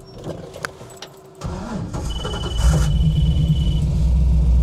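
An LS-swapped car engine settles toward a rough, low idle at a stop, a steady rumbling drone building after a few seconds of quieter mechanical noise and a brief squeal.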